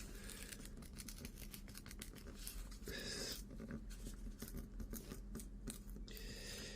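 A square of paper is ripped by hand up close, giving a series of crisp tearing and crinkling bursts in an irregular rhythm, with no voices.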